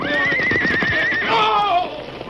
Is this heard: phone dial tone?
no